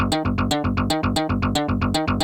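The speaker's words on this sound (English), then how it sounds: "electric bass sample that sounds like this." Sampled electric bass playing a fast, steady repeated pattern of short punchy notes, loud and close with no voices, suited to an 80s industrial groove.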